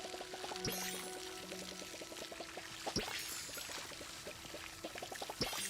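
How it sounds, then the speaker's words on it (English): Water pours in a steady stream while a grove is watered in a video game, joined by rhythmic ticking and clicking game sounds and a few brief chimes. "I'm just gonna water the grove"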